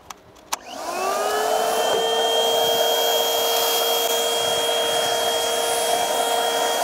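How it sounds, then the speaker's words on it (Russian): A wide paint spray gun on slow speed sprays light blue paint onto a wall for a large graffiti mural, a steady loud airy hiss with tonal whine starting after two brief clicks and holding without a break. "Делаю это широким краскопультом, потому что у нас второй тонкий засорился."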